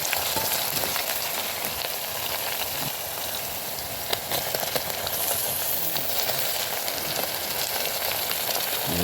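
Onion, capsicum, garlic and tomato fry in a pan with a continuous loud, even sizzle and occasional stirring, heard alone without talk.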